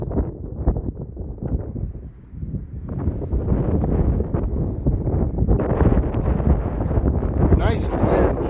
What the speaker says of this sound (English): Nice wind today.